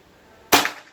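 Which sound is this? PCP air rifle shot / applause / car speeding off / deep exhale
PCP air rifle shot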